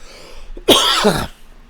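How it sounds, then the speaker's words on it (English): A single sharp cough, close and loud, in an otherwise quiet room. "I'm going to cough."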